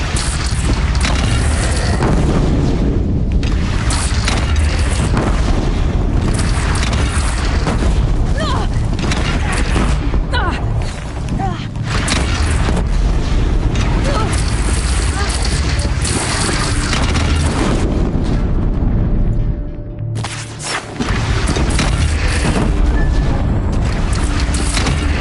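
Cannon fire thunders through a battle in the video game Horizon Zero Dawn, with repeated heavy booms and crashes over a dense, loud combat din, broken by a brief lull near the end.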